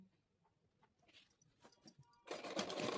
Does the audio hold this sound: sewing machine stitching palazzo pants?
yes